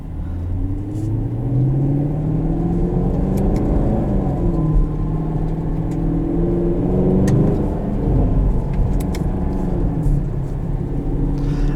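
A 2020 Chevrolet Camaro SS V8 muscle car heard from inside while driving, its engine a steady deep rumble with rising and falling revs as it accelerates and shifts, loud and continuous.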